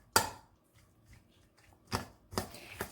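Curry chicken salad being mixed in a bowl with a utensil, giving a few short scraping and clacking bursts separated by quiet gaps, close and moderately loud with no voices.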